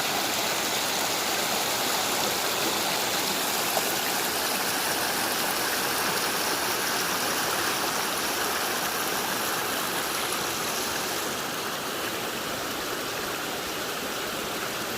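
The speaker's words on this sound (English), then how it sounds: "Like a scene from Jurassic Park. Douglas Houghton Waterfall." Douglas Houghton Waterfall roars with a steady, dense wash of falling water, loud and unbroken for the whole stretch with no voices.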